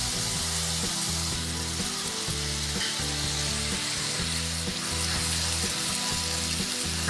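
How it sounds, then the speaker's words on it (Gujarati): Tomato puree sizzles and fries in a pan with sautéed onion paste for a Kathiyawadi whole onion sabji, a steady loud crackling hiss with rhythmic stirring scrapes throughout, no voices. "કાંદા સાતળાઈ ગયા છે, તો હવે એની અંદર ટોમેટોની પ્યુરી નાખીને ફરી સાતળશું."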